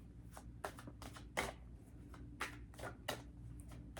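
Tarot cards shuffled by hand at close range, a steady series of soft riffling bursts and taps against a quiet room hum, with no speech.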